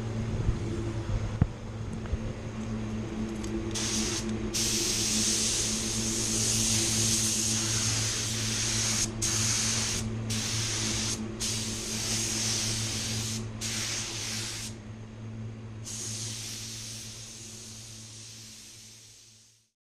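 Automotive spray gun laying PPG paint onto a Tesla, a loud close hissing rush in long passes broken by short stops, over a steady low booth or compressor hum, with no talking.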